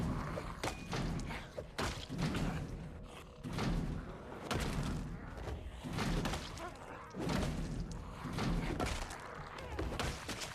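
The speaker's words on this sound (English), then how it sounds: "I'm going to have to hear them banging on that door for the next 20 minutes." Zombies in Project Zomboid pound on a garage door, heavy repeated thuds and rattling slams arriving in uneven bursts every second or two, loud and close.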